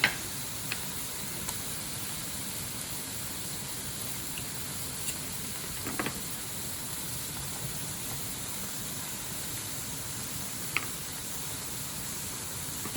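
Carrots and Chinese broccoli stems sizzling in a stir-fry pan, a steady even hiss throughout with a few faint clicks, alone without talk.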